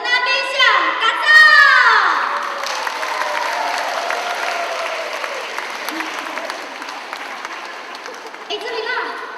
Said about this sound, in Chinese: 那我们现在呢，用最热烈的掌声欢迎我的另外一位主持人